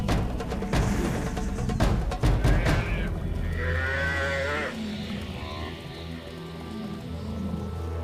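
A buffalo herd thrown into chaos during a lion attack, with loud, close bellowing moos and heavy thuds and scuffling, then a rasping, drawn-out call as a narrator speaks over the scene.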